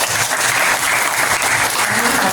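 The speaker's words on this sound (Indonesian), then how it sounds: "Kasih tepuk tangan dong." Audience applause fills the hall, a dense steady roar of many hands clapping continuously and loudly throughout with no pauses.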